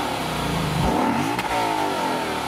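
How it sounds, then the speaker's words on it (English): A naturally aspirated V8 engine revs up sharply through its quad exhaust, climbing in pitch with a deep burbling tone, then settles back toward a steady idle, loud and close. "So you got a naturally aspirated V8 and quad exhaust, you think this thing is gonna sound pretty good."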